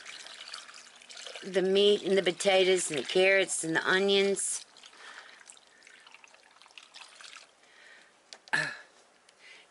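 Liquid is poured over beef, potatoes, carrots and onions in a crock pot slow cooker, a soft, faint watery trickle that follows a stretch of someone talking.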